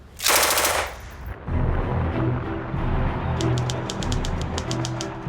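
A World War II era machine gun fires in a loud burst at the start, followed by rumbling battle noise and a series of sharp, rapid clicking bursts later on.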